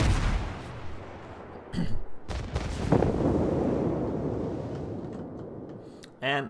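Naval gunfire from the cruiser Belfast in a warship video game, with heavy booming salvos at about 1.8 and 2.5 seconds over a continuous battle rumble, and a voice speaking briefly near the end.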